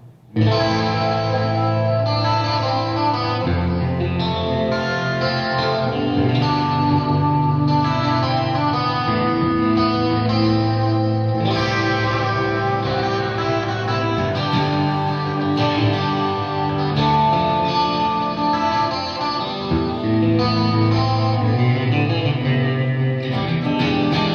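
Electric guitar played through the crunch channel of a Taurus Stomphead 4HG amplifier with delay, chorus and reverb effects, a steady, loud, sustained chorded passage with rich echoing tails and no talking.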